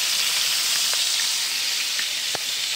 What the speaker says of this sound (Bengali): আর মাছ ভাজা বসিয়ে দিয়েছি এই যে